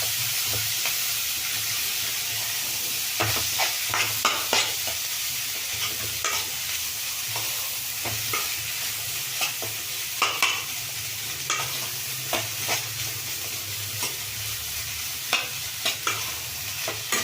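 Cooked drumstick leaves and green gram stirred into fried onions in a pan, a steady low sizzle with repeated clinks and scrapes of a spatula through the whole stretch, no speech.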